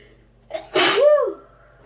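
One sharp sneeze from a woman putting on mascara, close and loud: a short intake, then a burst of breathy noise that trails off into a brief voiced tail.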